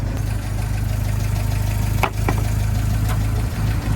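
A Willys Jeep engine idles steadily up close with a loud, even low rumble, broken by a couple of brief mechanical clanks partway through.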